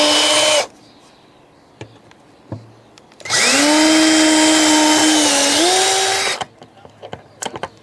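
A power drill with a 13/64-inch bit drilling holes for RV entrance stairs whirs briefly, then runs loud and steady for about three seconds, its pitch dipping under load, followed by faint clicks and handling noise.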